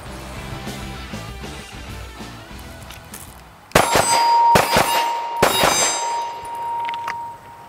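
Shots from a SIG P320 pistol ring off steel targets, several sharp metallic clangs in close pairs and a single, each followed by a bright ringing tone, loud and close after quieter background noise.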